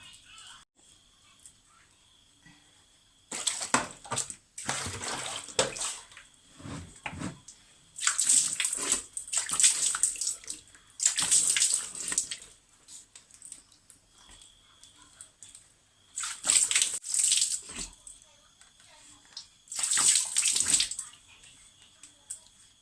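Water splashes in bursts as a face mask is rinsed off the face, several separate washing rounds spaced a few seconds apart, close and fairly loud, with quieter pauses between them.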